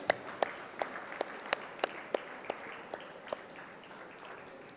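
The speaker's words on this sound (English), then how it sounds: "Ladies and gentlemen, let's clap for Harsha sir" About a dozen crisp, evenly spaced hand claps ring out at a design week session at Karnavati University in Ahmedabad, sounding like one or a few people rather than a full crowd, then trailing into quiet room tone.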